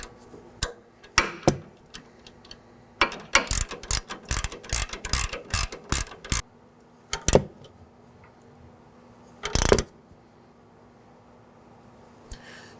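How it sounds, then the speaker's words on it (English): Wrench turning a nut on a front strut of a 2013-2019 Nissan Sentra while the stud is held with an Allen key, bursts of sharp ratcheting clicks in quick runs separated by pauses, close and crisp. "I'm going to hold the stud while I'm turning the wrench"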